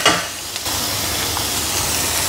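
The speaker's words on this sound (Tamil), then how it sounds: "நெக்ஸ்ட்டு பீன்ஸு போட்டுட்டு ஒரு மிக்ஸ் பண்ணிவிட்டு" Beans stirred and tossed in a hot oiled pan sizzle with a broad, steady hiss. A scraping stir comes near the start, and no one speaks.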